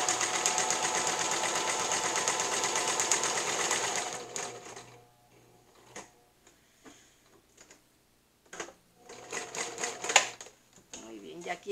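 A sewing machine stitches a girl's dress with a fast, close, rattling run for several seconds. It then stops, leaving scattered clicks and someone speaking.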